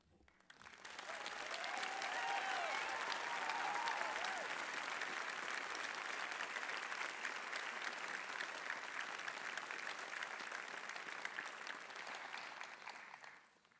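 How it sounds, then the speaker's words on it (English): Sustained applause from a large audience at a University of Aberdeen summer graduation ceremony, swelling in quickly, holding dense and even for over ten seconds, then tapering off. "Graduates, enjoy your applause today"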